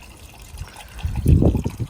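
Water drains from a central heating radiator system, a short close trickle that gathers into a fuller gurgling flow toward the end.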